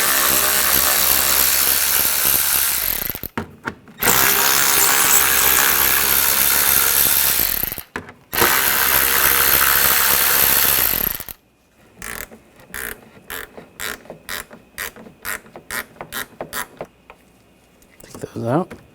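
Screws being backed out of a BMW X5 front grille with an 8mm socket: long bursts of broad mechanical noise, then a run of sharp, evenly spaced ratchet clicks, with pauses between.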